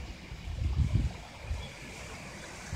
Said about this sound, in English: There's a little waterfall over there.